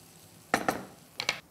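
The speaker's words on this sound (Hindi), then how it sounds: "मैदा डालकर हल्की आंच पर हमें इसे भूनना है।" Utensil scrapes and clinks against a pan as flour (maida) is stirred and roasted over low heat for soup: two quick metallic knocks, a short pause, then two more, close and clear with no talking.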